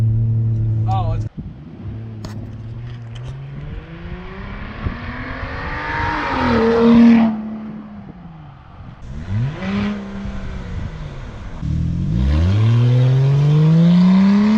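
A 2007 Lincoln MKX with a custom straight-pipe exhaust revs up and down with a low, booming exhaust drone that rises and falls in pitch, steady and loud throughout.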